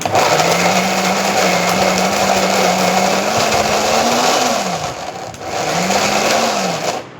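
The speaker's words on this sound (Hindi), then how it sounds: "ये ना इसमें मिक्सी में ऐसे आसानी से बिल्कुल इजीली पिस जाता है" A kitchen mixer grinder (mixie) grinds coarse minced meat into a fine paste, giving a steady, loud motor whine that dips and rises in pitch as the load shifts, with a short slowdown before it picks up again.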